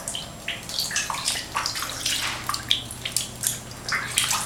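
Water tipped from a container into a bathtub in a flooding apartment, splashing and pouring in irregular close bursts with no talk.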